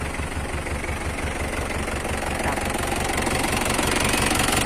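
An Isuzu D-Max 2.5 Di turbo diesel with an inline 12 mm high-cap pump and 4JB injectors idles steadily, its low, even knocking chug pulsing close by and alone at constant loudness.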